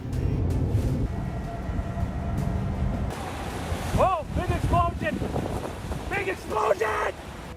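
Strong storm winds during a severe Oklahoma storm roar as steady, buffeting wind noise against the microphone, with voices speaking over the gusts in the second half.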